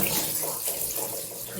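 Tap water runs in a steady, close gush into a sink while a fish is being washed under it.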